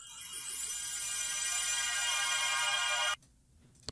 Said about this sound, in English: So I have more pads that I added in here.